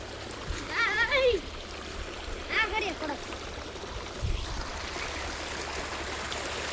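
Water runs through an irrigation channel in a village farm field, a steady low rushing flow that continues under bird calls and brief background sounds.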